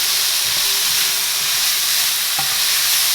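Sweet potato and carrot pieces sauteing in a pan, a loud, steady sizzle and hiss with occasional soft scrapes of stirring.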